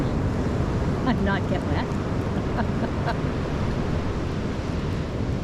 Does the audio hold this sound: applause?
no